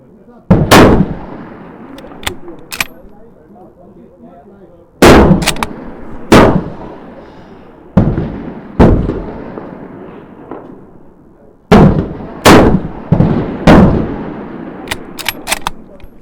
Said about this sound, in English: So 3 individual shots off a bag.